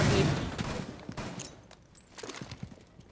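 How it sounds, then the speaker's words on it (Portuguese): Gunfire aimed at a door in the tactical shooter Rainbow Six Siege: a loud burst at the start, then scattered sharp shots trailing off, sounding moderately close. "Dá um tiro na porta aí."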